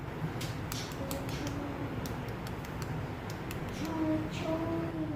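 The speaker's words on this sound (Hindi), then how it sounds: "इनकी मैं आपको आवाज़ भी सुनाती हूँ कि ये कितने क्रिस्पी बने।" Crispy bread chicken samosas are broken apart by hand, giving a series of faint, sharp crackles and crunches at irregular intervals over a quiet background hiss.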